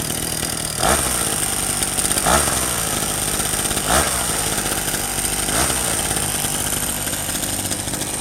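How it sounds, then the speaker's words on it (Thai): A small two-stroke engine runs loudly and continuously, its buzzing drone swelling briefly in a few regular surges. "มันจะเป็นเครื่องสองจังหวะอยู่"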